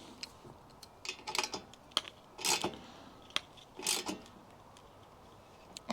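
A 15mm socket ratchets a bolt tight on an electric bike's front wheel, with quick bursts of clicking and a few sharp ticks spread across the stretch, close and moderately loud over a quiet background.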